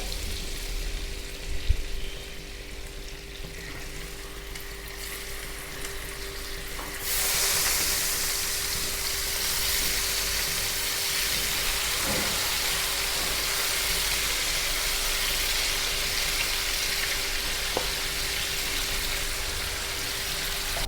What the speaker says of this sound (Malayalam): ബട്ടർ ഒന്ന് മെൽറ്റായി വരുമ്പോഴത്തേക്കും നമുക്ക് ഓരോരോ ചിക്കൻ പീസസ് ആയിട്ട് ഇട്ട് കൊടുക്കാം